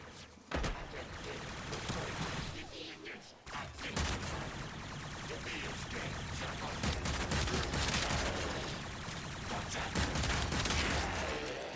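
Rapid firing of the Mara Detron shotgun secondary in the video game Warframe: dense, loud bursts of shots follow each other almost without pause for the whole stretch, with a voice talking over the gunfire.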